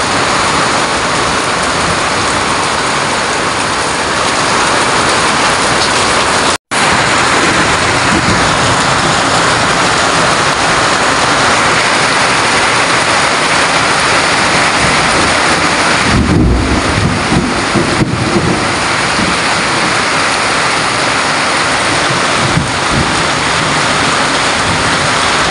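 A heavy afternoon downpour pounds down in a dense, steady roar for the whole stretch, with a deeper rumble of thunder swelling partway through and no talk.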